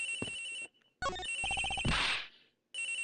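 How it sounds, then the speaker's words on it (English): Cell phone ringing inside a locker in Ace Attorney Investigations: Miles Edgeworth, an electronic melodic ringtone playing in short bursts separated by brief silences, with a whooshing game effect in the middle. "The ringing's coming from somewhere in here, sir"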